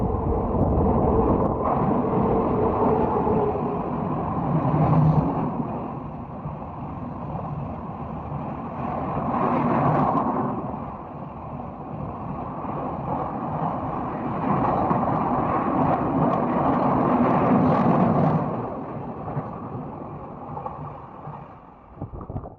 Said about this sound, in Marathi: ट्रेन येते म्हणून जरा थांबलोय भोगद्यात